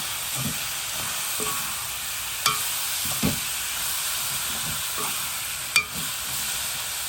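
Water goes into a chicken curry with dried red chillies frying in a pan, bringing a steady close sizzle and hiss with a few brief stirring knocks and clinks, no voices.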